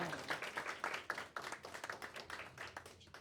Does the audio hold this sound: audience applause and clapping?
yes